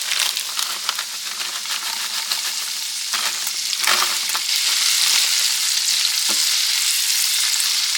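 Peppers and onions added to hot butter on a stovetop, a bright steady frying sizzle with spatula scrapes and a short clatter midway, close up and unbroken, without speech.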